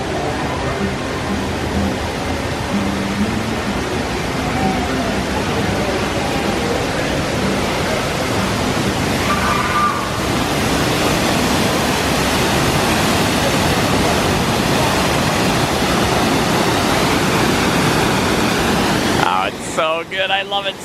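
Rafts splashing down at Grizzly River Run water ride in Disney California Adventure produce a loud, continuous rushing roar of water, close and steady throughout, with voices mixed in.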